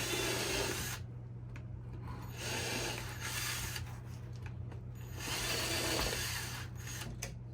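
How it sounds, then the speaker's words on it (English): A power drill with a countersink bit bores into wooden bird feeder parts in several whirring bursts separated by short pauses, close and fairly quiet over a low steady hum. "use the countersink part of this drill bit to get the screws exactly where I need them"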